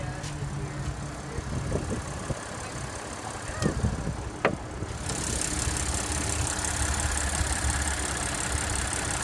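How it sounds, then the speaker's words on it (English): A 2015 Audi Q7 S Line with a supercharged 3.0-litre V6 TFSI engine idles in a steady, close mechanical hum. The sound brightens and rises slightly partway through, with no one speaking. "Under the hood is a 3-liter V6 supercharged TFSI engine"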